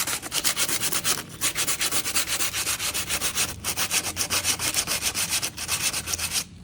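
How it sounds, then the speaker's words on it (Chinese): Rusty metal sanded by hand with sandpaper, heard as fast, even back-and-forth scraping strokes, close and steady, with a few brief pauses and no talking. "我们就要用砂纸一点点把它打磨下，尽量的把它打磨"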